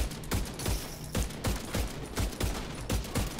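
Rapid automatic gunfire from a high-RPM gun in the video game The Division 2, a quick string of about a dozen sharp evenly spaced shots in bursts, fairly close with no talk.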